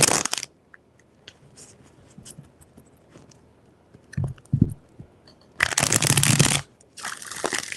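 Tarot cards are shuffled in several short, crisp riffling bursts between quiet pauses, with the loudest shuffles coming near the end.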